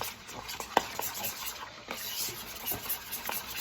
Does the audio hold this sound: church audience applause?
no